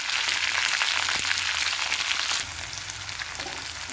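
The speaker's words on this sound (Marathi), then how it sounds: "त्याच्यामध्ये आपण ही गवारीची शेंग टाकून घेणार आहोत आणि छान अशी परतून घ्यायची आहे" Cluster beans (guar) sautéing in hot oil after a tempering, giving a steady, close sizzle and crackle that dips slightly partway through as the beans are stirred.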